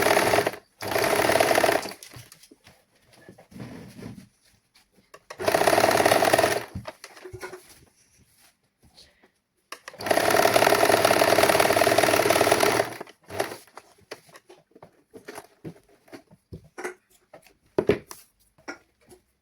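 Sewing machine stitching a V seam on a saree blouse, running in three steady bursts of about two to three seconds each, separated by quiet pauses with light handling noises.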